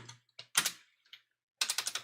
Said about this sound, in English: I'm actually typing in the mobaxterm window.